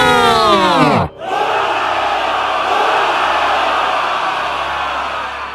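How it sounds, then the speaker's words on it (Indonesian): An army, neutral faction included, erupts in spirit: a loud chanted shout breaks off abruptly, then a massive sustained roar of cheering voices swells and holds, dense and close. "Seluruh pasukan, termasuk dari faksi netral, meledak dalam semangat."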